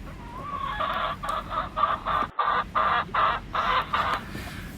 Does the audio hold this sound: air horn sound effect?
no